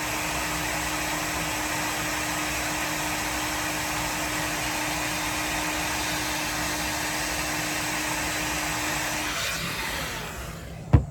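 A hair dryer on its cool setting blows steadily at close range, a continuous whirring rush with a faint motor tone, then it clicks off near the end.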